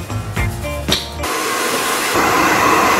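A handheld hair blow dryer runs at home after hair coloring and conditioning. It kicks in after a few brief tonal sounds and then holds a loud, steady, close whooshing roar with no talk.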